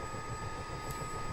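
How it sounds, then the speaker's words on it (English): In MSFS 2020, the engine of a Miltech CH-47D Chinook helicopter hums steadily while spooling up, a low, even drone with a faint high whine, heard alone. "And we'll allow that engine to come up a little bit more."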